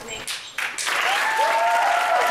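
Audience applause welcoming the speaker Ashley Smith at a talk: the clapping starts in a few quick surges, then settles into steady, full applause from a crowd that continues to the end.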